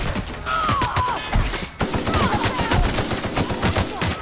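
Gunfire erupts in the video game The Outer Worlds as rapid bursts of shots crack over each other, with a brief pause midway before another volley. The firing is loud and close, and faint voices sit underneath.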